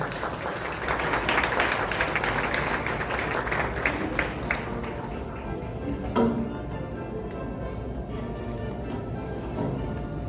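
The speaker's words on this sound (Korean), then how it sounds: "박수 부탁드리겠습니다." Audience applause at a regional development seminar in Gumi, a dense patter of clapping from a crowd in a hall, filling the room steadily for about ten seconds with faint talk underneath.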